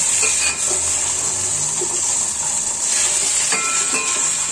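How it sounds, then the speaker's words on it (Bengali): Cumin seeds sizzle in hot oil as a tempering before cauliflower and potatoes are added, a loud, steady hiss with a bright crackle throughout and a few faint clinks. "এখানে শুধু জিরার ফোড়ন দিয়েছি"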